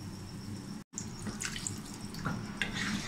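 Water pours from close by onto fried potatoes in a pan for a potato and egg bhujia, a steady splashing trickle that briefly cuts out and then resumes, with no talk.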